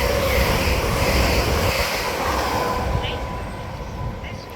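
A GWR IET Class 800/802 train passes through Hayes & Harlington station as a loud, steady broadband rush and rumble that slowly fades toward the end.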